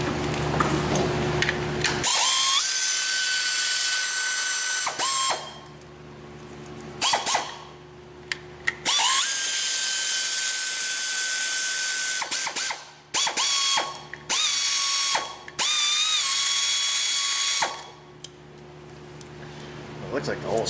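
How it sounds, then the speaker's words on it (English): Air ratchet running in repeated bursts of whirring and ratcheting as it backs out engine bolts on a Chevy truck, the tool loud and close with pauses between pulls and brief talk in the gaps. "Let me grab an air ratchet."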